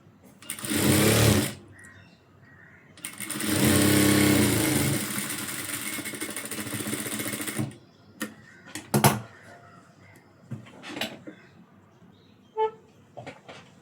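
Sewing machine stitching a blouse, two loud whirring runs, a short burst then a longer steady run, followed by quieter clicks and handling sounds, close by.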